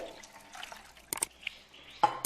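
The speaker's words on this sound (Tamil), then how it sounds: "இப்போ நல்லா இந்த டம்ளரில் 1 டம்ளர் தண்ணி ஊற்றலாம்" Water poured from a tumbler into thick, freshly whisked buttermilk for traditional neer mor, heard as soft trickling and a few close splashy bursts near the end, with no talking.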